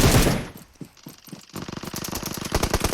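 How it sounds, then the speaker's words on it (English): Rapid automatic gunfire in a PUBG Mobile match rattles out in fast bursts, close and loud, with a heavy opening blast, scattered shots, then a sustained stream of rounds. "gunfire."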